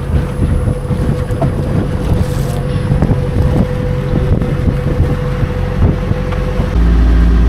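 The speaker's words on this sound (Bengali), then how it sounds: "যে ঢেউ, বাপরে বাপ, ভালোই ঢেউ আছে বাতাসের জন্য।" A boat rides wind-driven waves off Montenegro, giving a constant heavy low rumble with wind buffeting the microphone and choppy water slaps throughout, no voices.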